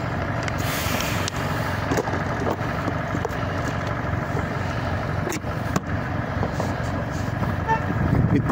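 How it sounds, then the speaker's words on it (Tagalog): A truck rumbles steadily close by in Zamboanga City, its engine a constant low roar with a few sharp clicks and knocks and faint voices underneath. "Ang ingay ng truck."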